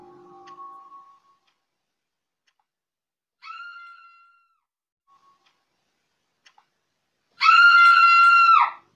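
A woman's scream bursts out loud and sustained near the end as a horror-story sound effect, preceded by a few fainter short cries and scattered small ticks over near silence.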